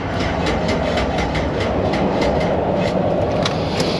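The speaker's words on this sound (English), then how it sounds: "it started a second ago and it was rattling and clacking" Engine of a 2007 vehicle running, a steady rattling and clacking with a rapid, even rhythm over a constant low rumble, heard close and alone.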